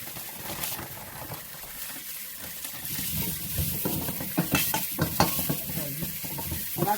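Meatballs sizzle in a pan, a continuous fry with scraping and clatter as they are stirred and moved, close and busy throughout.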